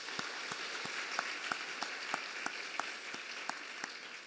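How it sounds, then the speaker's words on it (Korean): Church congregation applauding during a Sunday morning worship service, a quiet, distant wash of clapping with a steady rhythmic clap standing out at about three beats per second. "땅에 오신 평화의 왕 우리 주님께 박수의 영광을 올리겠습니다."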